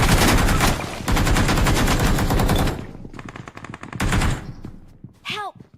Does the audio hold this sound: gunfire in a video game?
yes